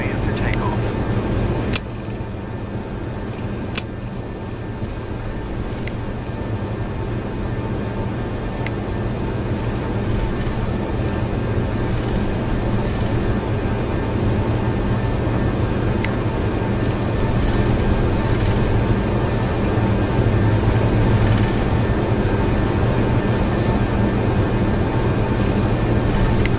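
Qantas Boeing 747 Classic on its takeoff roll from runway 34 left at Sydney, heard from inside the cabin as a steady, loud, broadband engine roar and rumble that holds and slowly builds throughout.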